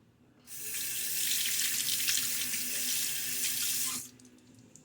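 A bathroom sink tap runs steadily while a razor is rinsed under it, starting abruptly, holding a loud even rush of water for about three and a half seconds, then shutting off.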